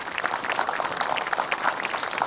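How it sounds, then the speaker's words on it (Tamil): An audience on a children's fun show gives a child a round of applause, a steady wash of many hands clapping throughout, moderately loud and continuous. "குழந்தைக்கு ஒரு பெரிய கைத்தட்டல் கொடுக்கலாங்க"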